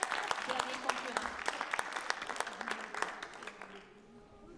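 Audience applauding the three spelling bee finalists, a dense patter of claps mixed with voices, moderately close and fading slightly toward the end.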